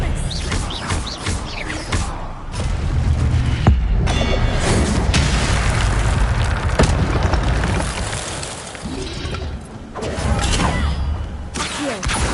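Fiery spell blasts from Incendio casts in Hogwarts Legacy, a run of loud booming bursts and thuds in close succession, with short gaps between the impacts.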